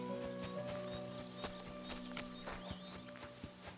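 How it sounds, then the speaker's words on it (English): Horse hooves clip-clopping in the medieval video game Kingdom Come: Deliverance 2, a steady walking rhythm of crisp close hoof strikes over a low ambient hum of background music. "Lovely horses you have here."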